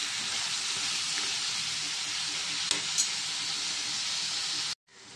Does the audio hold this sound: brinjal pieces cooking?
yes